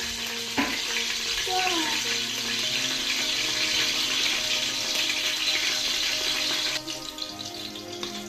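Chopped green chillies crackle and fry in hot oil with a steady, fairly loud sizzle that drops off toward the end. A brief clatter comes near the start.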